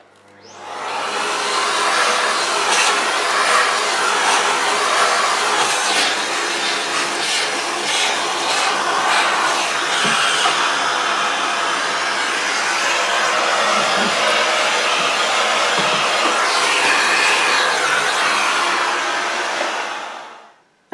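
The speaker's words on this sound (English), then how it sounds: "your vacuum cleaner comes in very useful for that. And I've attached the dusting brush on mine." A vacuum cleaner fitted with a dusting brush, cleaning a tumble dryer, runs continuously with a loud, steady whooshing roar, starting up and shutting off at the ends.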